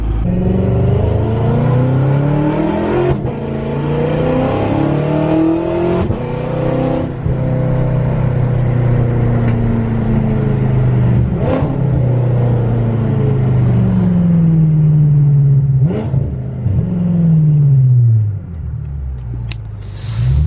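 Straight-piped BMW F10 M5 engine revving up and down several times, loud and close, with deep rising and falling rumbles, raspy peaks and brief pauses between pulls.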